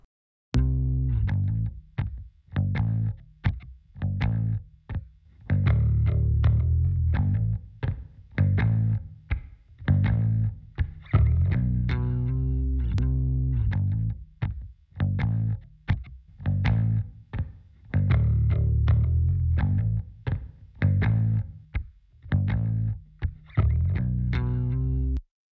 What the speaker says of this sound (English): when I engage this reverb, you'll hear it kind of move away from your face a little bit.